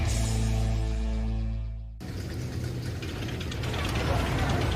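A steady mechanical tone gives way abruptly to a rapid clattering ratchet, like a coaster chain clanking as cars climb, loud and close.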